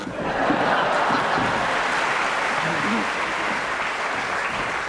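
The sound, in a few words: extra loud studio audience applause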